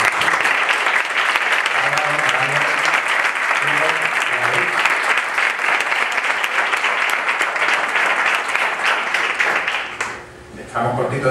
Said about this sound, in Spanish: le damos un aplauso a...